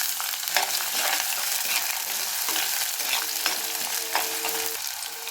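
Small shallots frying in oil in a pan for a Tamil lentil dumpling curry, a steady close sizzle with repeated scraping and clinking of a spoon stirring throughout.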